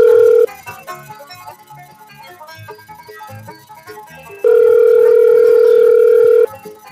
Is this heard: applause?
no